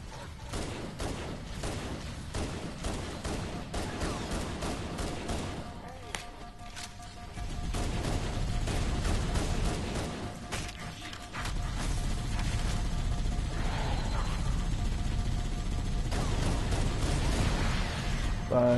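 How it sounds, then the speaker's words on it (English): Gunfire and explosions in the Halo Anniversary video game, scattered bursts and booms over a busy, rumbling mix, louder in the second half. "Explosions."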